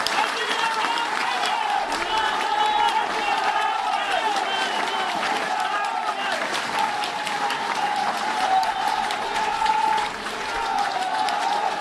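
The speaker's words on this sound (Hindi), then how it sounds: "तालियों की गड़गड़ाहट से धन्यवाद दो" Thunderous crowd applause at a BJP political rally in Gwalior, a loud, sustained roar of many hands clapping with crowd noise mixed in, continuous and dense from start to finish.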